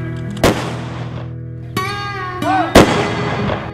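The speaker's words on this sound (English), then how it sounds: "Ready? Aim! Fire!" Rifle volley salute at a memorial ceremony in Rialto: three loud, sharp gunshot cracks spaced about a second apart, each with a ringing echo tail, over a steady sustained tone in the background.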